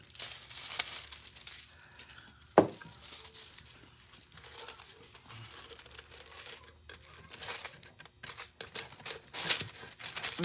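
Paper or thin craft material for a birdhouse decoration being snipped and crinkled apart, with soft crumpling rustles and one sharp snap partway through, close up, with no talking.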